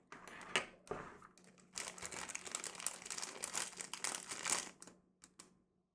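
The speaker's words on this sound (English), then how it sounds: "There's a little plastic bag that has inside a scraper thingy." A plastic bag crinkles as a dinosaur science dig kit is unpacked, with bursts of crisp rustling that come and go, starting sparse and then becoming busy and close, with no talking.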